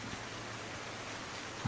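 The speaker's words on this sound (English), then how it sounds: "Unfortunately it's raining," Steady rain in Farming Simulator 19 hisses as an even, soft wash of drops with no breaks, faint and constant throughout.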